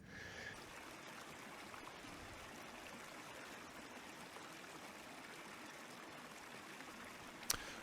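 A Dartmoor moorland stream flows steadily and close by, a continuous broadband rush of running water that stays even throughout, with a brief sharp knock near the end.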